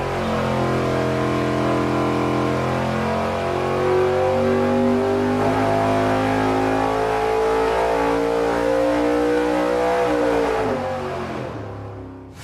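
A V8 engine with a nitrous plate kit jetted for a 275 horsepower shot roars steadily under load on a dyno, its pitch rising through a long pull before easing off near the end, loud and close with no talk.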